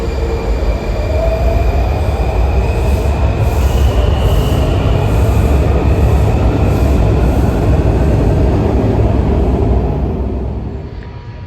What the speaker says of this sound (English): I just got off a Blue Line train